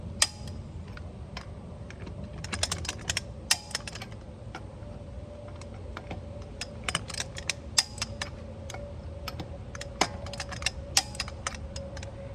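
A torque wrench on a Jeep Wrangler during preventative maintenance gives a long series of sharp, irregular metallic clicks and ticks, close and distinct over a low steady hum.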